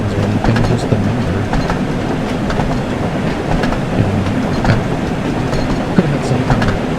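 Thomas the Tank Engine train from the Wonders of Sodor video game runs along steadily, a continuous loud rumble with rhythmic clickety-clack wheel beats, and no talk over it.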